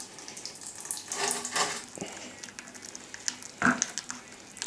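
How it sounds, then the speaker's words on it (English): Old straight oil draining out of an engine, heard as a faint, steady liquid trickle and patter with a few sharper splashes, close and alone. "It's somehow managing to go back on itself as it's draining, making a mess."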